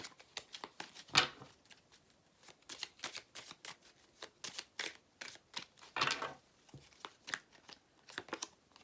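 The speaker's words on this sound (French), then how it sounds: "Alors, on va mélanger les cartes." Cards being shuffled for a weekly astrology card reading, close and fairly quiet, with rapid papery flicks and a couple of louder riffle bursts, no voice over it.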